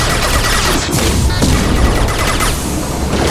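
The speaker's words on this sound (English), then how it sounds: "Taking heavy fire." Heavy, sustained gunfire in Mass Effect 2 at the Hahne-Kedar factory on the Terminus front, a loud unbroken barrage of shots and impacts with no pause.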